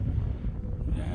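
Strong wind at an outdoor shooting range buffets the microphone in a steady low rumble, close and continuous, with no clear voice.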